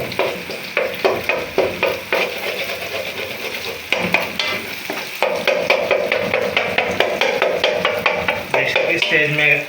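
An egg frying in a wok is broken into small bits with a spoon, producing rapid rhythmic metal scraping and clanking over a steady loud sizzle throughout.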